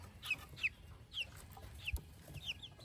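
A Barred Rock hen clucks softly several times in short, scattered bursts, fairly close amid quiet background.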